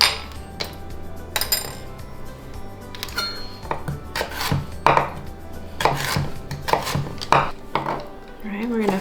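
Knife chopping guacamole ingredients on a cutting board, a steady series of sharp close taps with occasional clinks, slightly uneven rhythm, some faint speech in the background.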